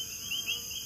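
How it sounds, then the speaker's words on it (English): A steady, high-pitched insect buzz drones on continuously, fairly faint, with slight swells in loudness. "I'm getting attacked by bees."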